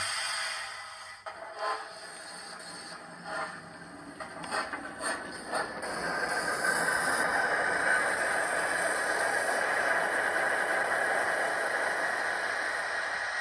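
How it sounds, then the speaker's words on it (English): Steady, fairly quiet boiler hiss from a Hornby TXS sound decoder in a model steam locomotive, rising to a constant broadband hiss after a few soft mechanical clicks and chuffs at the start. "The boiler hiss is quite loud on it."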